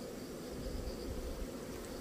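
A swarm of ground wasps drones around a wasp trap at a beehive site, a short, even, low buzzing mass heard steadily without talk.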